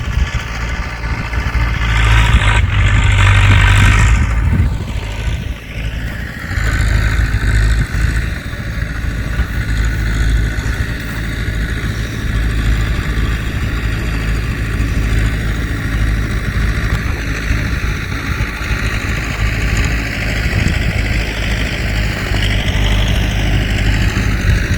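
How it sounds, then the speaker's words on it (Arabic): A tractor engine running steadily while preparing farmland in Wadi El Natrun, a loud, close, continuous low rumble with a rising and falling whine near the start, holding steady alone to the end. "جرار بجهز الأرض هنا."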